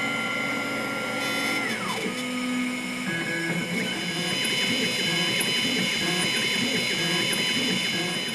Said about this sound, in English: you need to use the mill to mill it out in a piece of wax.